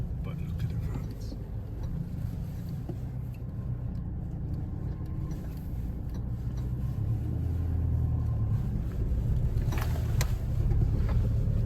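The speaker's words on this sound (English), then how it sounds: "So bumpy in it, it's like, I feel like Ace Ventura" A 4-wheel drive car rumbles along a bumpy, washed-out mountain road, a steady low engine and road drone with jolting thumps throughout, while people talk inside the cabin.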